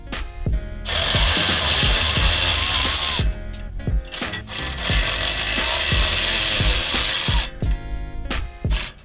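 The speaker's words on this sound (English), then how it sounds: "we're gonna remove the 2 bolts off the second flange" A ratchet removing bolts from the exhaust flange of a 2024 or newer Toyota Tacoma, loud rapid clicking in several bursts with short pauses between, close and alone.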